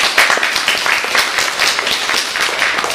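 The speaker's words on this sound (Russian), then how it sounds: "Аплодисменты." Loud, dense applause from an audience at a company leadership conference, sustained clapping filling the hall close and full throughout.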